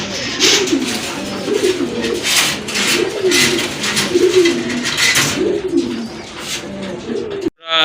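Native Bangladeshi pigeons coo steadily in a repeating, throaty rhythm close by, the soft calls rolling on one after another.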